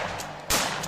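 Gunfire from the Total Recall video game: a steady rumble of shots, then a louder burst bursting in halfway through, dense and close with no pauses.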